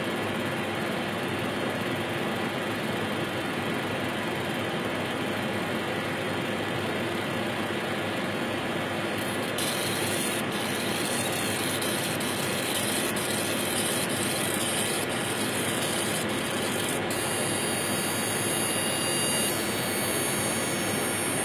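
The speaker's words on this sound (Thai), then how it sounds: "สังเกตพอเลเซอร์ยิงรอบที่สองนะครับป้ายจะขาวขึ้น" A laser marking machine engraving black anodized aluminium gives a steady, loud, even machine hum throughout. Thin high-pitched whines join partway through and switch on and off in short bursts while the laser runs its passes.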